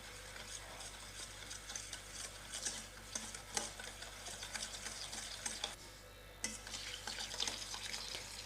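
Eggless tutti frutti cake batter stirred after vanilla essence is added: a faint, continuous scraping and swishing of a spoon in a bowl with small clicks, close but quiet over a low steady hum.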